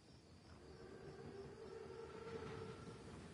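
In Call of Duty WWII, an armored German Panzerzug approaches with a low, steady rumble and faint mechanical whine that builds slowly at a distance, with no voices.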